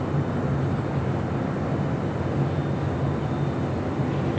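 Steady broadband roar of a United Airlines Boeing 787-10 Dreamliner at LAX, a continuous loud jet rumble with no breaks and no voices.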